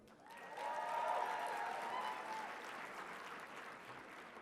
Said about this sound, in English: let's give a round of applause to our 12 contestants